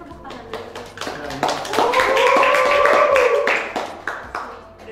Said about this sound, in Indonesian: Keren banget kan, tepuk tangan dulu.